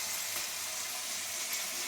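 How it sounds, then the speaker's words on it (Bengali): Spices with turmeric, dried chilli and a little salt sizzle in hot oil in a pan, a faint, even hiss that holds steady and close throughout. "আমি একটু মশলাটাকে কষিয়ে নেবো"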